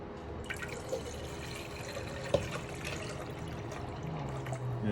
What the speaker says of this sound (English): Pour some of this water.